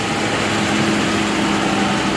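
A vehicle engine runs steadily during a transmission lock-up pressure test on a 47/48RH automatic with a reverse manual trans brake valve body, a loud, continuous drone with no change in pitch and no voices.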